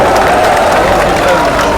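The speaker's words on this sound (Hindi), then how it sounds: "ये तालियां किसी को ऐसे नहीं मिलती" Applause and crowd noise from a packed political rally at Ramlila Maidan in Delhi, a steady dense wash of clapping and murmuring that runs continuously throughout.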